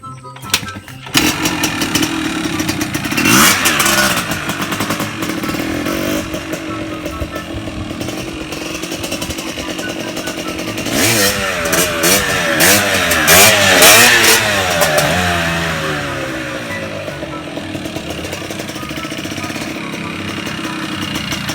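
A motorcycle engine revs during a slow first-gear wheelie, starting from a rough idle and climbing into strained, rising revs that waver and dip before falling back, loud and close throughout.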